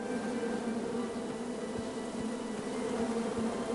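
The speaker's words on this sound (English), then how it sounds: "Bees! I ruined the bees' day and that lovely meal." Bees buzz in King's Quest, a steady droning swarm hum that carries unbroken throughout at moderate volume.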